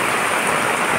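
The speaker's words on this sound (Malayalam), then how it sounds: "ആ കുരീപ്പുഴയിലെ മഴ ഭയങ്കരമായ മഴ തന്നെയാണ്." Heavy monsoon rain pouring steadily at Kureepuzha, Kerala, a dense unbroken roar of falling water filling the whole second, loud and close with no voices.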